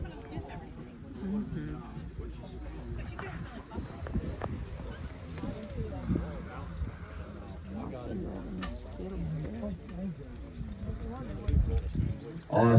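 Horses clip-clopping at a charity horse pull and wagon drive, with hooves tapping steadily under continuous crowd chatter and nearby talk.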